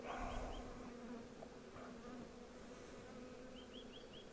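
Honeybees buzz steadily around opened hives during a spring inspection, a dense continuous drone with a few individual bees passing close by, no talking.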